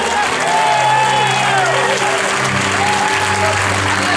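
Congregation clapping during a church service, a steady dense applause mixed with crowd noise, while sustained tones and a voice carry on underneath.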